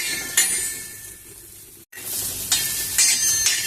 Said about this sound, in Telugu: ఇంకా కొద్దిసేపు వేయించుకున్నాము